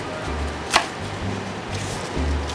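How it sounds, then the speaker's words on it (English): A knife coarsely chops Swiss chard greens on a cutting board, giving one sharp close chop followed by softer, quieter cuts, with no talk. "And these I'll just chop coarsely."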